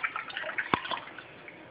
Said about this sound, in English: Pour in your Moringa tea.